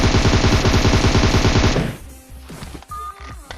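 Automatic gunfire in the PUBG Erangel 2.0 video game: a loud rapid burst of shots for nearly two seconds, then it cuts off, leaving scattered softer game sounds and a brief tone.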